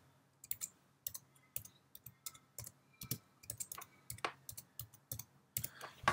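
Clicks and taps on a computer setup, quiet irregular sharp clicks spaced through the stretch, some in quick pairs, with keyboard-like patter mixed in.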